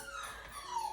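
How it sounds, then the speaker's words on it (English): A dog whines indoors in a thin, high, wavering cry, short and fairly faint, rising and tapering twice in quick succession. "that's my dog. He's crying."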